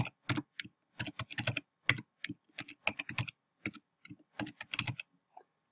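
Someone types on a computer keyboard in irregular bursts of close, crisp key clicks with short pauses between runs, entering placeholder data into a table. No one speaks.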